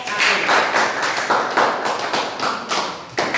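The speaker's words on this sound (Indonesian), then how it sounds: "Tepuk tangan untuk kelompok 1." Classroom students clap for a presenting group, a brief burst of uneven, rhythmic hand claps close by, with some voices mixed in.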